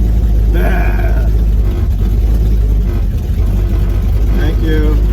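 Drag race car running at Darlington Dragway during Hot Rod Drag Week, engine droning loud and steady from start to finish, with a nitrous surge and voices talking over the roar.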